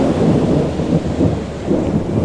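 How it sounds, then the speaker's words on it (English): Deep, rolling thunder rumbles loud and close during a storm at Gulf State Park's beach campground, continuous and heavy over a wash of rain, with no voices. "I hear thunder."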